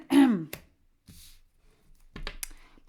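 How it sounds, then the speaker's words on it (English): A person clears their throat once with a short, close rasp, followed by a few faint clicks and soft breathy sounds. "Clearing my throat because it's a speech."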